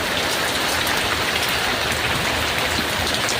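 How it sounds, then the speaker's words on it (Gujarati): Heavy rain falls in a dense, steady downpour, loud and close, drumming on surfaces without a break and with no voices. "આ બાજુ છે ને જોરદાર આવે છે વરસાદ"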